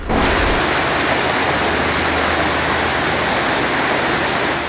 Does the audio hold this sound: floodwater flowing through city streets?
yes